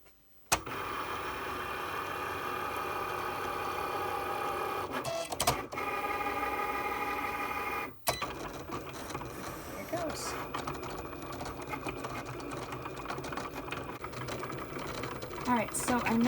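A Cricut cutting machine slicing stamped paper images, whirring and buzzing steadily with brief pauses and restarts as the blade moves, close up and loud, with no one talking over it.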